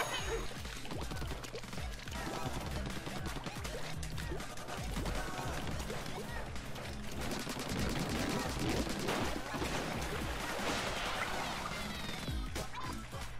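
Rapid, repetitive shooting from ink weapons in Splatoon 2, dense bursts of clicking shots laid over game music and effects, continuous for several seconds.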